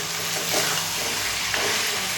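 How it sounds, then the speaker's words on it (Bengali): Chicken and potato pieces sizzle while being stir-fried with spices in a pan, a steady frying hiss broken by two brief scraping stirs, with no talking. "এবার ভালো করে কষে নেব আলুর সাথে"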